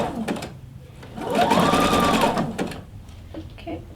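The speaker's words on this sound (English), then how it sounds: "just stitch all the way around using a zigzag stitch" A sewing machine runs a zigzag stitch around the top casing of a reusable fabric produce bag, a steady mechanical whir that builds to a sustained run, with a few short starts and stops on either side.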